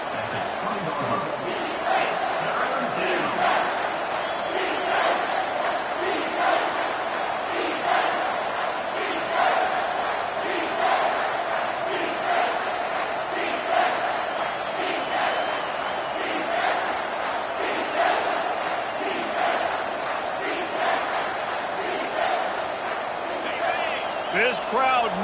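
A football stadium crowd roars loudly and continuously during a game against Texas, a dense wall of cheering and yelling that holds steady with small surges throughout.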